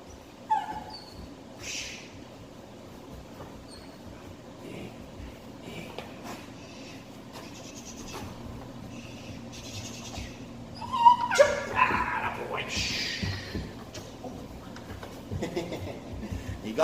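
Presa Canario puppy in protection training gives scattered yips, whimpers and a sharp bark, close by, between quieter stretches of shuffling and handler movement.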